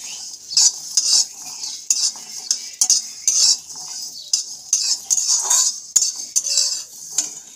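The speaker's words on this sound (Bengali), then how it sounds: "শুকনো কড়াইয়ে খুব ভালোভাবে নাড়াচাড়া করে নেব" Garlic, green chilies and black cumin get stirred in a dry wok, a utensil scraping and clinking against the metal in steady rhythmic strokes, close and fairly loud with no talking.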